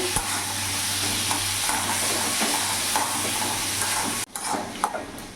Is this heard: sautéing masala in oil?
yes